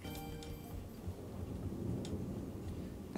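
A squishy squeeze toy is squeezed and kneaded, making faint, soft crackling and rumbling that sounds like distant thunder and rain, with a few brief sharp ticks over a low continuous rumble.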